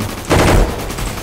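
A quick, loud burst of gunfire from a Roblox Gunfight Arena match, a short dense volley lasting a fraction of a second amid ongoing game noise.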